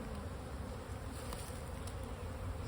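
Honeybees buzz in a thick, continuous drone at an opened hive while a second brood box is being added, close and steady without pause.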